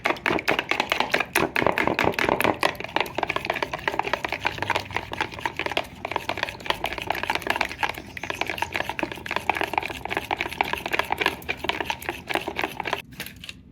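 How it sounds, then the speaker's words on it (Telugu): Eggs being beaten briskly in a bowl for a ragi cake, a close, steady rapid clatter of whisk against the bowl that runs without pause, with no talk over it. "ఎగ్స్ని ఇలా బాగా బ్లెండ్ చేసుకోవాలి"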